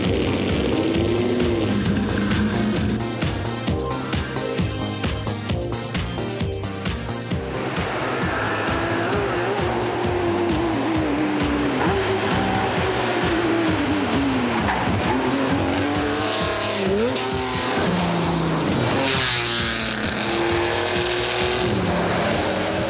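Classic rally cars race flat out around the 1.8 km Montlhéry school circuit at the Tour Auto 2009, engines roaring continuously with rising and falling revs, tires squealing, and cars sweeping past loud and close.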